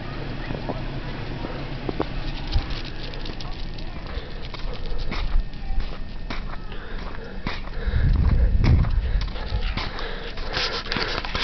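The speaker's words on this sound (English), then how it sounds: "See if my doggies will follow me." Dogs push through deep snow in a Colorado blizzard. Soft crunching steps and sniffing sit over a constant windy rush, and a heavier burst of trudging swells near the end.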